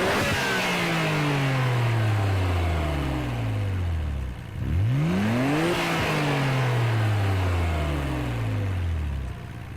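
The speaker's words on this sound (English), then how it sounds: "Here's a stock standard R33 GTR. Ooh, this actually sounds very nice." A stock Nissan R33 Skyline GT-R engine in Gran Turismo 7 revs repeatedly, climbing through gears in rising sweeps, dropping back, then accelerating again; loud and continuous with no voices.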